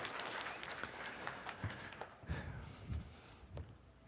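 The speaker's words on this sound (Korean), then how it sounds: "우리 박수로 한번 격려해 주시면 좋겠습니다." Applause from a church youth group congregation at the start, thinning out into scattered claps and a few low thumps as it fades.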